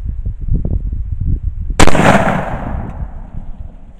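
One 12 gauge shotgun slug fired into a wood and brick target, a single loud close blast with a long decaying roar after a stretch of low rumbling wind noise.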